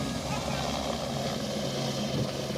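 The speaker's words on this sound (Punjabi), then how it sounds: "ਬਹੁਤ ਹੀ ਖੂਬਸੂਰਤ ਲੱਗਦਾ ਪਹਾੜਾਂ ਵਿੱਚ ਦੀ ਜਾਂਦਾ ਹੋਇਆ ਚੋਪਰ।" A helicopter carrying passengers between Govind Ghat and Govind Dham flies through mountains, its rotor and engine producing a steady, moderately distant drone.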